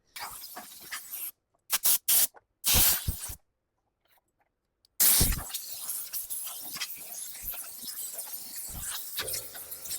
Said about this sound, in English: now I'm going to take the air compressor, blow this out, try to get the inside as clean as I possibly can